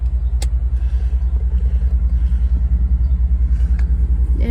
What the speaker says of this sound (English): This is an old truck my dad had that's as old as him in 82.